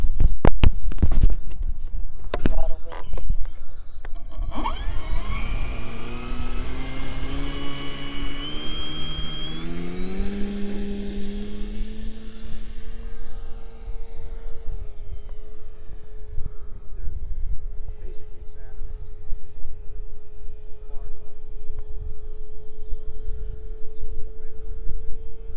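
A model Fokker D.VI airplane's electric motor spools up with rising whine, then holds a steady droning hum in flight, with wind buffeting and handling noise early on.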